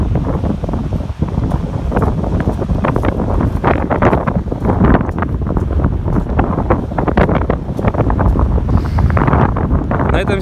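Strong gusting wind buffets the microphone on the coast at Gelendzhik in January, a loud, continuous roar with rapid thumping bursts throughout.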